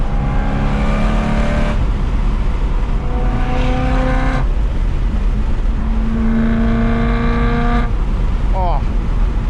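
A BMW M3 engine revs hard toward 8200 RPM through its exhaust. A loud, continuous roar climbs in pitch, drops back and climbs again in repeated pulls, with a voice partly underneath.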